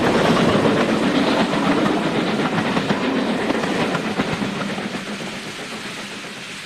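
An LMS locomotive named Fred double-heads a mixed train of vans and tankers alongside Murdoch in maroon livery, a steady loud rumble of wheels with clickety-clack on the rails rolling on throughout and easing slightly toward the end.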